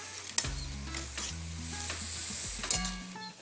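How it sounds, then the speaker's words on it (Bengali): Spices such as cumin and coriander powder with salt fry in a pan, giving a soft, steady sizzle broken by a few clanks of the spatula as they are stirred, with no talking. "এবার আমি এটা ভেজে নেবো ভালো করে।"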